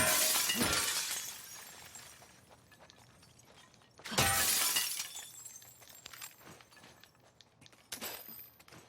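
Glass shatters in The Last of Us Part II, two loud breaking crashes about three seconds apart, each followed by tinkling shards and scattered debris clinks, with a smaller crack near the end.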